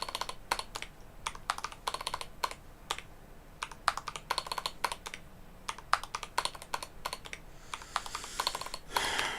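Close computer keyboard typing while working in Unity, rapid clustered keystrokes with a few heavier presses, continuing in uneven bursts for several seconds with no talking.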